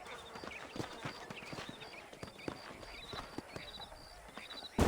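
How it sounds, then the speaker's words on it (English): Horses walk with steady clip-clopping hooves in the Red Dead Redemption video game, a run of moderately loud hoof strikes over an outdoor ambience, ending in a brief loud burst. "These are fine horses."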